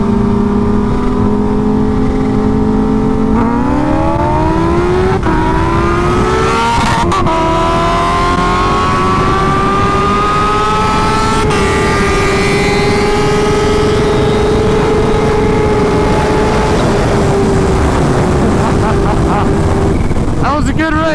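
A Kawasaki Ninja H2 and a turbo Hayabusa race on the street. A loud engine holds a continuous high-revving howl, climbing and catching several gear changes over about twenty seconds before a final sharp shift.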